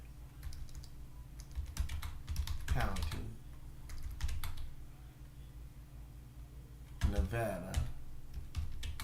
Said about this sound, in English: Uh-oh, what am I typing, y'all?